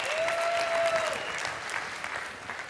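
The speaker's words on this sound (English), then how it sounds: "Makes me feel better when you clap." An audience applauds at a corporate compliance presentation, with dense steady clapping throughout, a brief tonal whistle early on, and the clapping gradually thinning toward the end.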